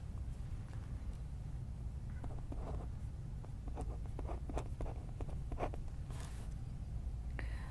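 Pen writing an inequality by hand: faint, close scratchy strokes in irregular short bursts over a steady low background hiss, with no talking.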